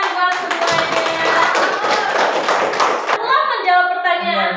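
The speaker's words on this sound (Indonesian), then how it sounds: "Tepuk tangan buat semuanya" A classroom of students claps together, steady dense applause lasting a few seconds, then cutting off as a voice starts speaking.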